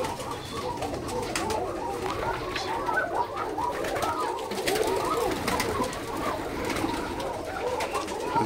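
Pigeons coo steadily inside a loft, a dense overlapping chorus of soft throaty calls that continues without pause, close and moderately loud.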